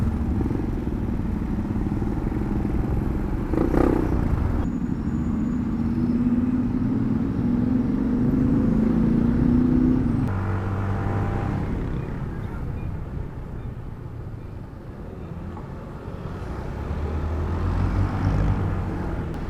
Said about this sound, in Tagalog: Ang lalaking truck nga pala mga kasabay natin ngayon.